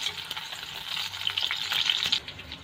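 Green chilies fry gently in a pan for a mutton dish, making a thin, bright sizzle with a few stirring taps; the sizzle swells, then drops away near the end.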